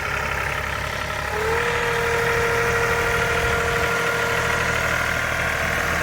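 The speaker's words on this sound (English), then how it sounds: "I think I should be on the tractor and Blake should be holding the shovel" A tractor engine idles with a steady low rumble, then revs up a little and settles into a firmer, louder drone with a faint knocking texture, close by and with no voices.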